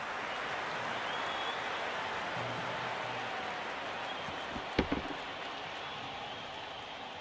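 Cricket crowd at a Pakistan vs New Zealand T20 men's match applauding a well-timed shot: a steady, dense wash of clapping and cheering that fills the whole stretch, with a brief knock near the end.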